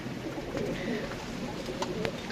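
Soft low cooing of pigeons close by over a steady background hiss, with a few sharp ticks and faint chirps, just after a hailstorm.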